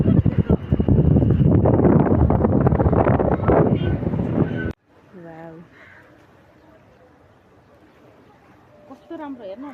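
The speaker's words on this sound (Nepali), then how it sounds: "हावाले कस्तो धेरै हल्लाएको छ" Strong wind batters the microphone in a loud, dense roar for several seconds, then cuts off abruptly, leaving faint ambience with voices talking quietly.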